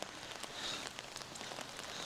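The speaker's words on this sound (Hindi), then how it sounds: "बारिश काफ़ी हो रही है" Heavy rain falls outdoors in Victoria, British Columbia, a soft, steady, faint hiss of drops spattering on surfaces with no voices.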